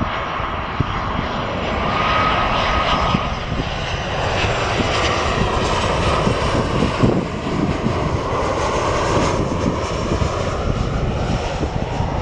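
Airplane engines roar steadily at Vancouver airport as a plane passes, a loud, sustained broadband rumble that swells slightly and lasts the whole stretch, with no talking.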